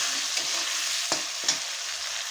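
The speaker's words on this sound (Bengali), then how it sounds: "আলুটা আমার তাড়াতাড়ি ভাজা হয়ে যাবে।" Salted potatoes frying in oil, a steady close sizzle with two or three brief stirring scrapes and no voices.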